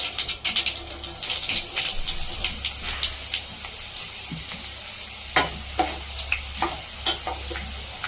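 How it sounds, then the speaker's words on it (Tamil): Vadagam, a sun-dried seasoning, fries in hot oil as tempering for a Karaikudi fish curry, giving a steady close sizzle with sharp irregular crackles and pops throughout and no voices. "இந்த வடகத்தை தான் நான் போட்டு இப்போ தாளிக்க போகிறேன்."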